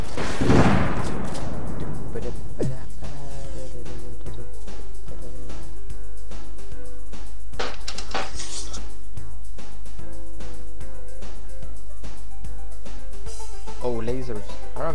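Rapid video-game gunfire from a shooting machine in a sci-fi farming co-op game, dense bursts and pops crackling steadily throughout, with players talking excitedly over the shots.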